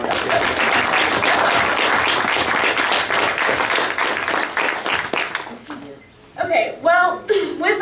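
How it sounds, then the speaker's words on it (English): A round of audience applause at a graduate student association awards ceremony, dense steady clapping for about five seconds that fades out, followed by a voice speaking. "Let's do one more just round of applause."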